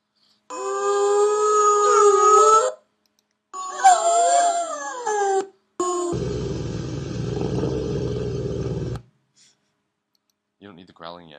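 Wolf howl samples auditioned during music production, several long wavering tonal howls separated by silences, then a burst of noisy distorted sound, with faint voices near the end.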